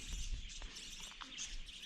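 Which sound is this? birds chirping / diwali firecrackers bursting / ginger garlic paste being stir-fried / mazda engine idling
birds chirping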